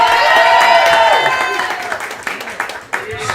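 Applause and cheering from a crowd honoring girls' basketball players at a live event at a pizza restaurant, loud at first and fading over a few seconds, with some talk mixed in.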